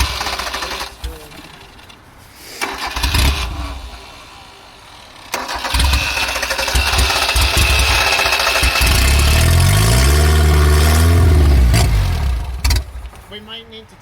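A Ford Festiva rally car engine runs loud and close with a rough, uneven mechanical drone that swells and fades, while voices talk over it.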